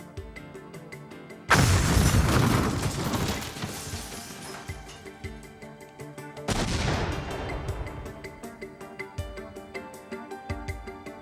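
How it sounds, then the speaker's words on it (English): Dramatized pipe bomb blasts: two loud booming explosions, each followed by a long crackling, rumbling decay with scattered debris-like bursts underneath. "In an instant, the pipe bursts, sending razor-sharp fragments of steel and nails in all directions at deadly speed."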